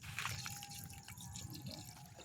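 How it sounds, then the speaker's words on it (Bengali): Water pours and drips faintly and steadily while rice is washed in a village kitchen, a soft continuous trickle with no talking. "চালটা ভালো করে আমি ধুয়ে নিই হ্যাঁ কচলে কচলে ধুয়ে এলাম।"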